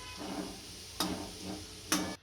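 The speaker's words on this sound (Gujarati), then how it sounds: "પેલા બદામને આપણે ઘીમાં સારી રીતના શેકી લેશું." Almonds roasting in ghee for date laddoos, a soft steady sizzle with two sharp scraping stirs of a spoon against the pan, close and quiet, no voices.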